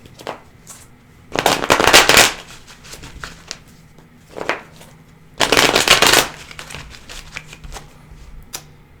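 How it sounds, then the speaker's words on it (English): Two long bursts of riffling tarot card shuffles, crisp and close, with a few softer taps and single card flicks between them. "Okay, so I'm going to shuffle this a little bit,"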